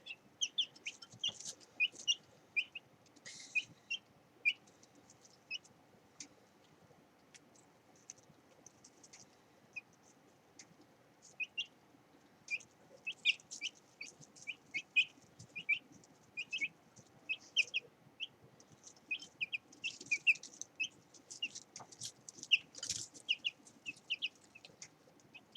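Young chicks, a week old, housed indoors in a bathtub, keep up a steady chorus of high thin peeps and soft clucks, scattered and overlapping throughout, fairly quiet with no voices.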